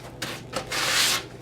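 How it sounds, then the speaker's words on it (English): Sandpaper rasps across the side of a cabinet door in a few quick scuff-sanding strokes, the last one longer and stronger, close by. "give your sides of your door a scuff sanding as well"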